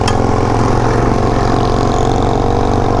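Suzuki DR-Z400 dual-sport motorcycle engine running steadily at about 20 mph while riding on gravel, a loud, continuous mid-pitched drone with no talk.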